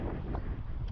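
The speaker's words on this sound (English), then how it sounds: "the sea is quite windy today because of the wind" Wind gusting across the open sea at Björnö Nature Reserve, a steady rushing roar buffeting the microphone, loud and continuous with no voices.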